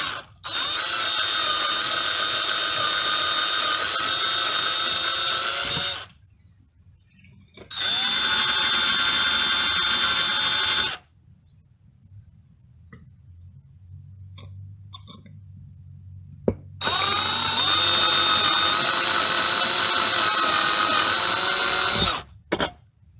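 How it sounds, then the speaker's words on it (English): A power drill boring 3/32-inch pilot holes for RV ceiling speakers whines in three long bursts of several seconds each, with quiet pauses between them, close and loud. "Now I'm drilling a 3/32 pilot hole in all of my holes here."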